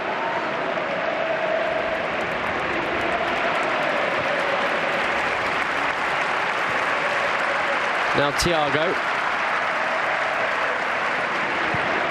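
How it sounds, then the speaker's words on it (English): Football fans applaud in a stadium during an Atletico Madrid match, a steady broad roar of clapping crowd heard throughout, with a commentator's voice briefly over it near the end. "Applause from the fans as they appreciate this football that Atletico Madrid are playing at the moment"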